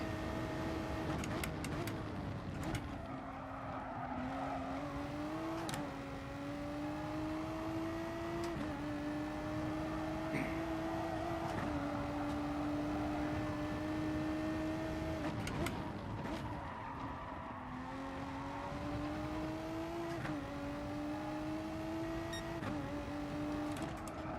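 Renault race car in GT Sport, its engine droning steadily with rising and falling pitch through gear changes, loud and continuous with brief tyre or skid noises over roughly twenty seconds.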